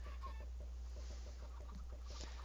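Minecraft chickens give faint, rapid clucks in short repeated bursts over a steady low hum, with no voices.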